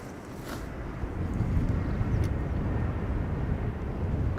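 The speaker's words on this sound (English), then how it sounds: "You can also hear a helicopter passing just to the side of me." A helicopter passes close by at an airport after rain, its steady low rotor and engine rumble swelling slightly and holding loud throughout.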